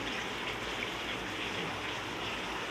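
Water poured into mashed hill gooseberry pulp for juice, a steady splashing gush running continuously at moderate level, close by and uninterrupted.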